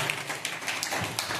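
An audience claps in a quick, dense burst of applause at a live gathering, sharp overlapping hand claps filling the short moment at moderate volume.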